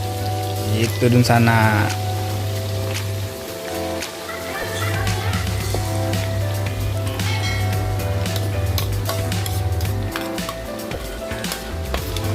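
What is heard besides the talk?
chicken frying with kalasan spice paste on electric stove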